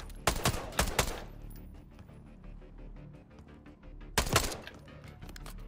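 Semi-automatic gunfire in the Black Ops 6 video game campaign: two clusters of sharp, loud shots in quick succession, one near the start and another near the end, with a quieter stretch between.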